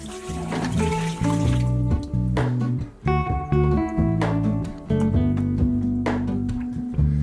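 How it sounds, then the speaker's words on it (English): Water runs from a tap into a kitchen sink where potted plants sit soaking, a loud, close, steady gush with splashing and trickling that shifts in pitch as the flow changes. "I soak them in the sink to rehydrate the soil"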